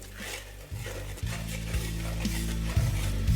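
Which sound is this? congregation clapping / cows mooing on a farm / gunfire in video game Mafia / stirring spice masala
stirring spice masala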